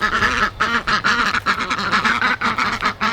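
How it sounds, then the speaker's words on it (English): Several ducks quacking loudly and continuously in a backyard poultry pen, a dense, overlapping chorus of repeated rhythmic quacks, close and busy, with no talking over it. "I can hear them quacking already."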